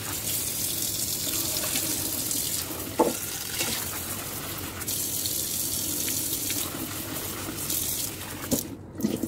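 Running tap water pours steadily into a sink as dried chili seeds are washed, a continuous close splashing stream with brief clunks and stirring handling sounds, no talking.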